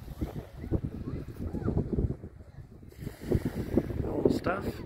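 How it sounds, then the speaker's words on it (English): Children's voices carry in the background at Mākara Bay, a stony beach, coming as scattered far-off chatter and calls under gusty wind buffeting the microphone. "You can hear all the kids in the background"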